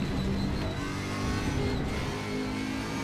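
A BMW race car engine in the RaceRoom racing game, driven on the Nürburgring: a steady, loud mid-pitched engine drone with slight revving changes, holding on alone for about three seconds.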